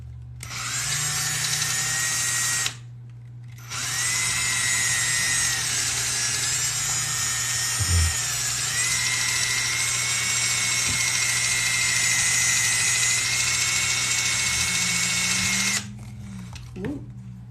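A power drill boring into a leather tray gives a loud, sustained high whine that runs for long stretches, stopping briefly near the start and again near the end, with a low hum beneath.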